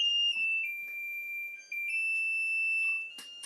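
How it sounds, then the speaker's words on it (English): A kitchen timer alarm rings in a home kitchen with a sustained, piercing electronic beep that holds steady for several seconds, dips briefly, then continues before cutting off with a clatter at the end. "Let's turn off the timer."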